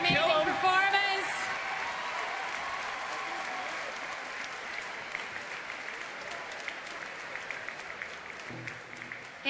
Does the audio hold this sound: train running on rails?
no